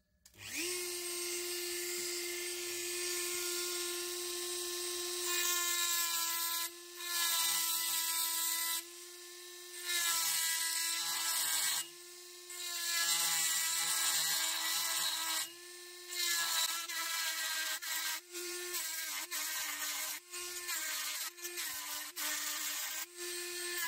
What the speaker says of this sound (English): Just grinding out in preparation to weld